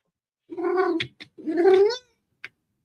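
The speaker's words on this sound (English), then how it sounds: "that cat is letting you know what's happening, bro" A cat gives two drawn-out, whiny meows close by, separated by brief clicking noises, with another short click after the second call.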